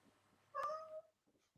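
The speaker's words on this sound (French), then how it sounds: "j'ai été troublé par mon chat" A domestic cat gives a single clear, drawn-out meow, close and moderately loud, against a quiet room with a few faint rustles afterward.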